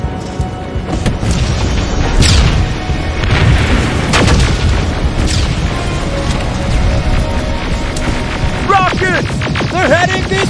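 Rockets exploding in Terminator: Resistance, a heavy continuous rumble of booms and crashes at high volume, with sweeping tonal electronic sounds near the end.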